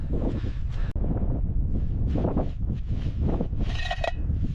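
Strong wind buffets the microphone in continuous low rumbling gusts, with a brief click and some faint higher rustling near the end.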